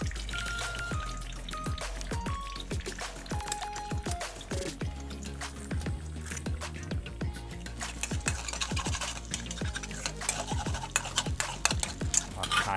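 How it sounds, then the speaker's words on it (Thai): Eggs stir-fried in a hot pan for instant noodles with fresh shrimp, a metal utensil scraping and clinking steadily against the pan amid a constant loud sizzle, with no talking. "เดี๋ยวเราจะทำการผัด ไข่ก่อนครับ"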